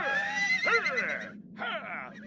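A wild horse neighs, a long loud whinny followed by a shorter second one after a brief pause, close and unaccompanied by talk.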